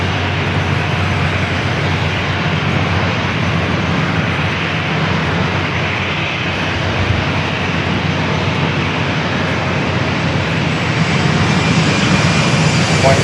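An airliner on final approach to San Diego airport, flight 392 Liberty 1, makes a continuous jet roar that holds loud and steady, with a low hum underneath and no voices.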